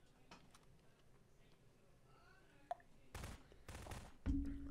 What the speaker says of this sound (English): I hear gunfire. It's really close.